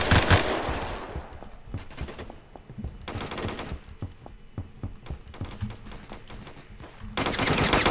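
Automatic gunfire in the Roblox game Phantom Forces, with rapid bursts of crackling shots that come in several close, loud volleys separated by brief pauses.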